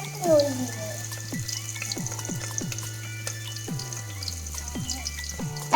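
Raw chicken pieces rinsed under running tap water in a kitchen sink while preparing a chicken curry, with a steady water flow and repeated wet knocks and clinks of meat and utensil against the basin.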